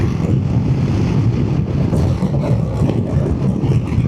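A VOGE DS900X adventure motorcycle cruises at 70 mph in sixth gear around 4,000 RPM, a steady low engine drone mixed with heavy rushing wind noise, constant and close without talk.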